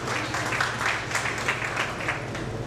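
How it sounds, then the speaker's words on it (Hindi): Audience applause welcomes a guest at a memorial tribute gathering: loud, continuous clapping from a large crowd, dense and steady from start to finish with no voices standing out. "हम उनका भी जोरदार तालियों से स्वागत करते हैं"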